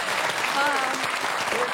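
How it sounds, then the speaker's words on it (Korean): Brief burst of audience applause in a television studio, steady clapping from a crowd with a voice speaking over it. "박수 보내주세요."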